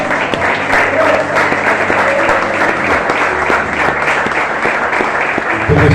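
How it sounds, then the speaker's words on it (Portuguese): Church congregation applauding during a Portuguese-language worship service, steady sustained clapping from a full room throughout, with faint voices under it. "Vamos aplaudir o Senhor porque ele é digno."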